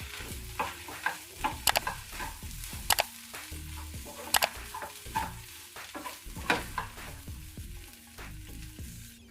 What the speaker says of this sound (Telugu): ఉప్పు వేసుకొని ఇదంతా ఒకసారి కలిపేసుకోవాలి.